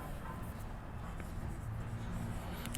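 Pen scratching on paper while working a geometry proof in a math lesson, a steady low writing texture running the whole moment, faint and close, with no talk over it.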